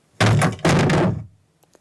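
Foley door sound for an animated film, two close heavy thumps in quick succession, each with a short rumbling body before fading to near silence.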